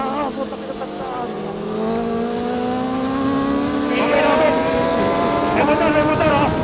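A motorcycle engine, with a fast Yamaha MT-09 and Suzuki GSX-R1000 running downhill on Marilaque highway, whines steadily with rising and falling pitch as it shifts, close and loud, while riders talk over the wind noise.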